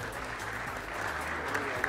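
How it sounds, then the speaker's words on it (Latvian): Applause from an audience at a youth basketball championship award ceremony for under-12 girls, a dense, steady clapping that swells slightly toward the end. "Aplausiem."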